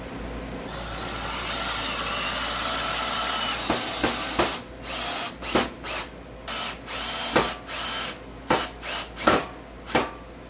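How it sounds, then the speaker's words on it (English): A Hart 20-volt cordless half-inch drill/driver whirs steadily at first, then runs in a series of short, sharp bursts with quick stops in between, close up and without talk. "So far, the Hart drill's awesome."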